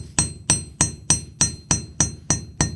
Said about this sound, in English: we're going to flatten one end with a ball peen hammer, and I'm just going to hold it. I'm just going to tap it.